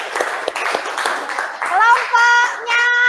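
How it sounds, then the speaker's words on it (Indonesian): A short burst of scattered hand claps over an online class video call greets a student group, followed by voices and chatter carried through the call's audio. "tepuk tangan untuk kelompok 3"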